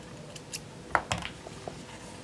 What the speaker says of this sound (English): you're going to cut your yarn